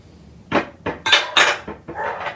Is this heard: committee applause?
no